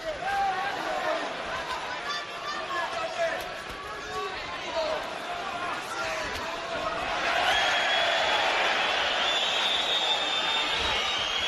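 A crowd at an AEBOX boxing match between Andoni Gago and Geoffrey Dos Santos makes a steady roar under continuous commentary, swelling louder toward the end.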